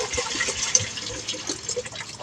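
Water pumped into a container and filling it up, a steady gushing, splashing flow heard close by that continues throughout without pause.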